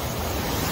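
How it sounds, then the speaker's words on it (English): Pacific Ocean surf on the shore near Puerto Vallarta, a brief, loud wash of breaking waves mixed with wind buffeting the microphone. "As y'all hear the waves crashing."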